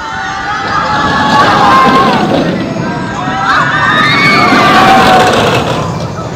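Riders scream together on a free-fall amusement ride at Ha Long Sun Park, a loud sustained wash of many overlapping high shrieks and shouts from a crowd, rising and falling over several seconds.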